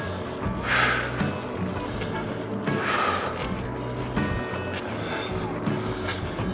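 Lectric XP4 electric UTV driven hard in turbo mode at a lakeside campground in Ohio: a steady motor and rolling drone with wind rush and bumps throughout, close and fairly loud.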